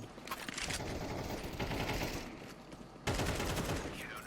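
MP9 gunfire in a competitive shooter game: rapid bursts of close submachine-gun shots with mechanical clatter, a brief pause, then a louder burst near the end.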